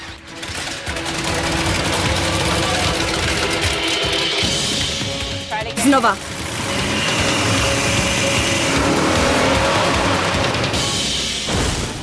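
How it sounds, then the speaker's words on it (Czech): A car engine on a tuning build is started with the key and runs at a loud, steady drone, with a brief interruption midway before it settles back into running. A voice speaks briefly. "All Stars tým se konečně odhodlal nastartovat motor."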